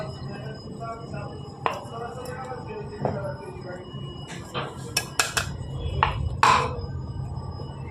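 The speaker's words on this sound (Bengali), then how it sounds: "এটাতে একসাথে মেশাবো একটা মিক্সিং বাউলে" Oats and rice flour being mixed in a mixing bowl, with scattered clinks and taps of a utensil against the bowl, close and moderately loud, and a voice talking faintly underneath.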